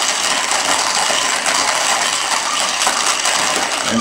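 An OE PFP hand coffee grinder crushes coffee beans in its burrs, a steady, even crackling grind that runs continuously and fairly loud from start to finish with no talking.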